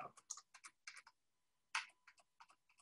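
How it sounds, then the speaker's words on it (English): Computer keyboard arrow keys are pressed while working in an Excel spreadsheet: a dozen or so crisp, quiet clicks in quick irregular bursts, with a short pause midway and no voices. "I'm navigating left and right with the arrow keys here."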